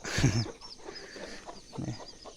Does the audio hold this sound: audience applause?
no